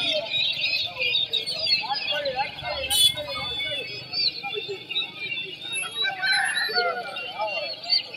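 Roosters and other fowl cluck and call in a busy open-air poultry market in Vadalur, with nearby voices talking over the scattered bird sounds.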